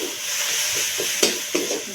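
Masala sizzles and fries steadily in a pan as ground chili paste goes in, with a couple of sharp spoon or spatula taps over the continuous hiss.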